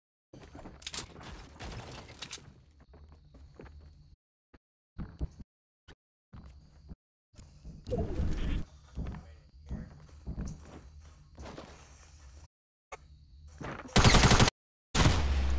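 Scattered gunshots from the video game Fortnite ring out in short, uneven bursts between quieter gaps, with in-game footsteps and a player speaking throughout.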